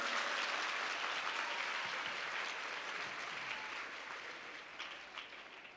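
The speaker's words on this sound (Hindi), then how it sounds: "इसलिए जरा भारत माता के लिए एक बार जोरदार ताली बजा दीजिए" Students at a school gathering in Dhamtari clap loudly together as a crowd, sustained applause that is dense and steady, easing slightly toward the end.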